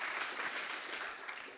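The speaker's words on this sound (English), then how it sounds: "Can I get a round of applause for our students who have worked so hard?" Audience applause for students at a pitch competition finals in New Orleans, steady dense clapping filling the whole short stretch and tapering slightly at the end.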